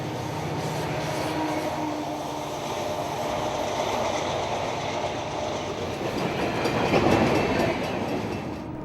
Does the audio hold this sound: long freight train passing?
yes